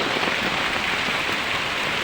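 Steady, dense rain pattering on surfaces, a constant close hiss with no breaks or voices.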